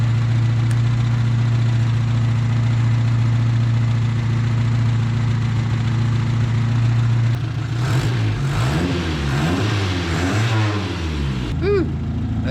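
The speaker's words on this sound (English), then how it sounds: "she's a little idling machine, ain't she?" A 1979 Chevy Luv truck engine idles steadily with a low, even rumble up close, then gets a few blips of the throttle that make it rise and fall, roughening toward the end.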